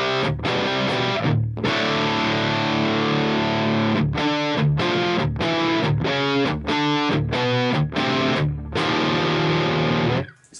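Heavily distorted electric guitar through a Line 6 Helix modelling a Mesa Dual Rectifier amp chugs through chords and palm-muted bursts with sharp stops, loud and saturated, no voices.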